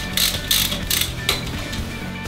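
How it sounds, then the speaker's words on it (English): A ratchet clicks rapidly in a few close, loud bursts while loosening the 12mm centre head plug bolt on a VE diesel fuel pump, followed by quieter mechanical rattling. "The next stage is to remove the centre head plug bolt, which is located in the centre of the fuel lines."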